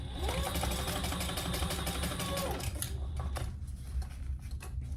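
A sewing machine stitches a quarter-inch seam on a leather pouch, its rapid mechanical whirring running steadily close by for about three seconds before stopping, followed by faint handling noises.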